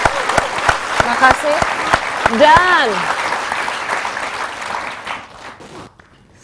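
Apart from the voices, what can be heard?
studio audience applause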